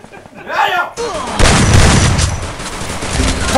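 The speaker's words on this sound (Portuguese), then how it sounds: "Vai, dá um tiro, Mimi." Gunshots in the video game Free Fire, a loud burst of heavy, booming fire that erupts after a brief quieter opening and stays dense and noisy to the end, over faint game sounds.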